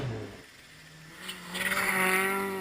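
Volkswagen Polo R WRC rally car on a Monte Carlo Rally stage, quiet at first, then an engine rising and approaching with a revving, tonal roar that grows louder toward the end.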